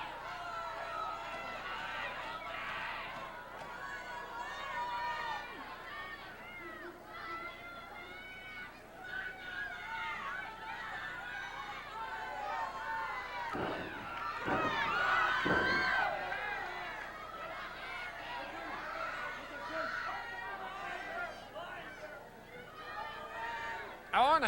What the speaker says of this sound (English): The crowd exhorting him to do so.